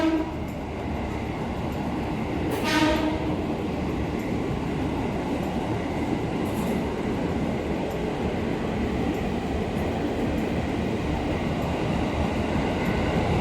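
A Taksaka New Generation executive train rolls into Gambir station in Jakarta with a steady rumbling roar, and a short horn blast sounds early on with a fainter second one a few seconds later.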